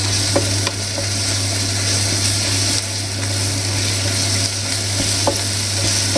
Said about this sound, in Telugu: ఇప్పుడు 1 స్పూన్ అల్లం వెల్లుల్లి పేస్ట్ వేసుకోవాలి.